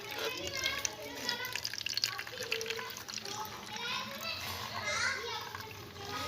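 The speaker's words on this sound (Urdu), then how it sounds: "یہ جو پانی کے گرنے کی آواز یعنی کہ پیشاب کے نکلنے کی آواز تھی جو آپ نے سنی" Water pours and splashes steadily in a working kidney model of human physiology, standing in for urine flowing out, with children's voices and chatter running over the liquid sound throughout.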